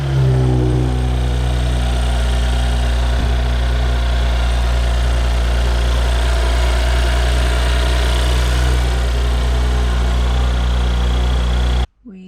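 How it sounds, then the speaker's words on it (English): The engine of an Audi S4 B9 idles steadily while warming up, a low, even, close rumble with a constant hum that runs unbroken until it cuts off abruptly near the end. "We are waiting for 2 minutes for the engine to be warm"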